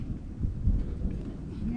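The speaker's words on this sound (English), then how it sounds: "The wind just started picking up." Wind gusting outdoors during oil and fluid service on a 2020 Polaris RZR Highlifter 1000, a steady low rumble buffeting the microphone with swells, no voices.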